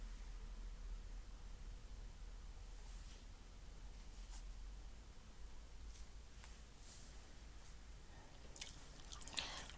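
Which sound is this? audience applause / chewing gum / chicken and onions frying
chewing gum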